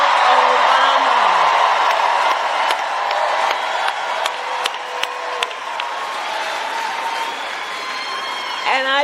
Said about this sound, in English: Can we please applaud my dear and incredible friend, the former First Lady, Michelle Obama